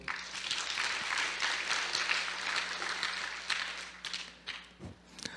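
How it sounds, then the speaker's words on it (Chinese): Audience applause at a hacker conference closing ceremony fills a hall with sustained, dense clapping from many hands, then tapers into scattered claps near the end. "请各位给予掌声"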